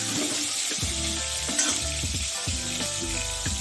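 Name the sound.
potatoes frying in oil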